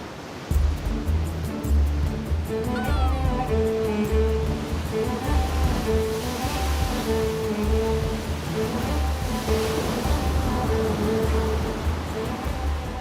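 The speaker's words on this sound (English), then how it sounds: "strong summer winds cause turbulence in the Arabian Sea" Ocean waves and surf churned by strong summer winds off a beach on the Arabian Sea at Ras Al Khaimah, a steady loud wash of breaking water with a low rumble throughout, mixed with faint tonal background sounds and no talk.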